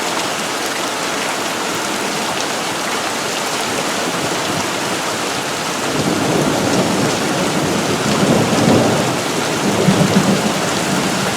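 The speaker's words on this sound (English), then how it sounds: "the thunderclaps have been right over the house here." Heavy rain roars over a house in Prescott, Arizona during a thunderstorm, loud and steady, with a deep rolling thunderclap swelling in the second half and rumbling on to the end.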